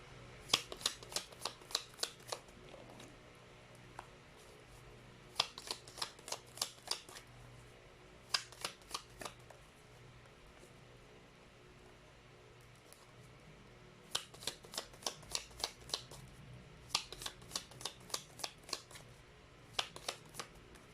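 Tarot cards shuffled by hand in several quick bursts, each a rapid run of crisp riffling clicks, close and clear, separated by short quiet pauses.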